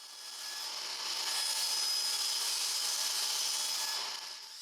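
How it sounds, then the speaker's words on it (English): A table saw cuts through wood to clean off glue squeeze-out, a steady, faint, high whirring rasp that holds evenly for several seconds with no voices. "cleaned off the remaining glue squeeze out with the table saw."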